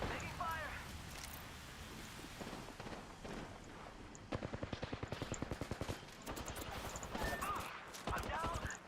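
Rapid bursts of automatic gunfire in a video game shooter, a dense rattling stretch in the middle with scattered shots around it, all under a steady bed of game noise and wind-like hiss.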